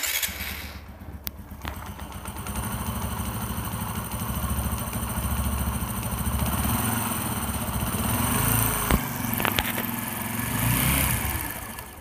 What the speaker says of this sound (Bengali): একটা বেয়ারিং নয়েস খারাপ হলে যেরকমটা সাউন্ড আসে এরকমটা সাউন্ড আসতেছে